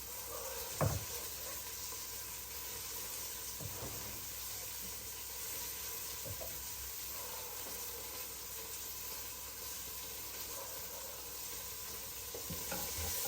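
Steady oil sizzle from a pot of bagara rice as coriander and mint go in, a constant hiss with a few soft stirring clunks and scrapes spaced through it.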